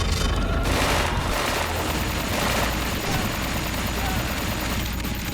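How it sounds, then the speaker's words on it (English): Constant loud battle din in a video game, with an MP40 submachine gun rattling off rapid bursts amid booms and explosions, dense and unbroken throughout. "You'll get an MP40 rather quickly, and it's amazing for crowd control."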